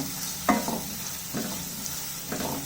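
Onions for pav bhaji fry in a pan with a continuous soft sizzle and a few scraping stirs of a spatula, close up.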